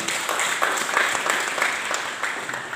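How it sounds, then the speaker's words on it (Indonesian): Applause from the audience at a public lecture on a university campus, greeting students from Papua, a steady wash of many hands clapping close by, sustained and fairly loud throughout. "Kita tepuk tangan untuk adik-adik semuanya"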